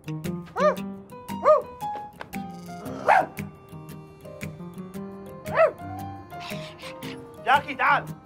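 A dog barks and yips in short, separated bursts in a domestic scene, with people talking in between the barks.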